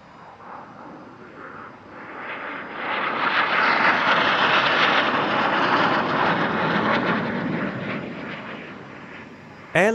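An F-86 Sabre jet flies past at an outdoor airshow, its roar swelling from a distant rumble to a loud broad rush at the midpoint, then slowly fading as it moves away.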